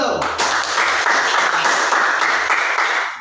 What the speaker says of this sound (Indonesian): boleh aplaus dulu